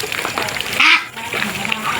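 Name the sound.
ducks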